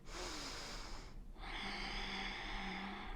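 Slow, deep breathing during a yoga session: a long exhale followed by a full inhale, close and quiet with a faint airy rasp.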